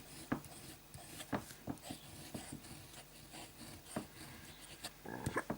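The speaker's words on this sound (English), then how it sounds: "the pen dries out fairly quickly and is also quite scratchy" A scratchy Faber-Castell pen drags across paper in short, irregular strokes, each a faint close scraping rasp separated by brief pauses, with no talking.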